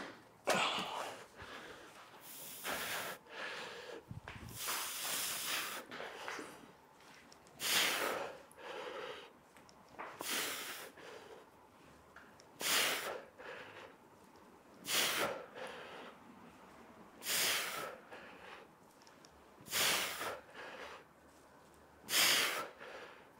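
Heavy, labored breathing after a half-marathon training workout: loud gasping bursts of air roughly every two to three seconds, close to the microphone, with quieter panting between and no talking.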